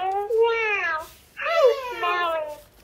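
A cat meows twice indoors at a family home, two drawn-out, wavering calls close by, separated by a brief pause.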